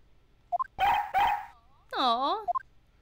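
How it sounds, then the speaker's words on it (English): A police dog in the Ace Attorney Investigations video game gives a couple of short yips followed by a longer whining, howl-like bark, with a brief voice burst between, fairly close and clear. "That's a police dog Gumshoe's been taken care of."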